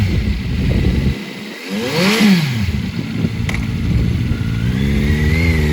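A 2023 Kawasaki Z900 streetfighter with ABS and an inline-four engine revs hard up and back down in one close, loud sweep, its rising and falling pitch standing out over a steady idle.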